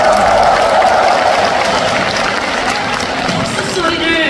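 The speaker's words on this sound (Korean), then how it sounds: "박수 소리를 들으니까요." Concert crowd applauding at the opening night of a Hyunyeok Gawang national tour show in a dome arena, a broad continuous roar of clapping and cheering with talk mixed in.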